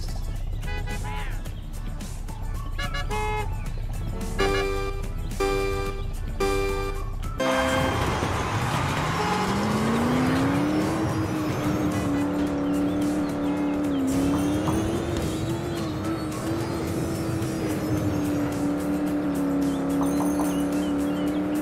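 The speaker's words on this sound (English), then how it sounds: "Start your engines." Video-game race cars from Blaze and the Monster Machines on a start line: a rapid run of musical countdown beeps, then engines rev and climb into a sustained whine with tire squeal, loud and continuous.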